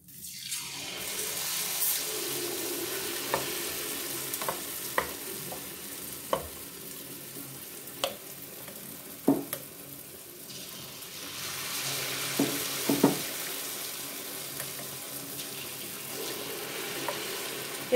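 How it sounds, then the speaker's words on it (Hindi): A snack fries in hot oil with a steady sizzle throughout, broken by occasional sharp pops and clinks, with no one talking. "तेल गरम हुआ तो भी डालूंगी मैं।"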